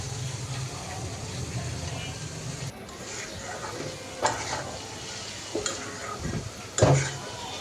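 Onion and potato frying in oil left over from frying rui fish make a soft, low sizzle, with a few clinks and scrapes from stirring near the end, fairly quiet and close.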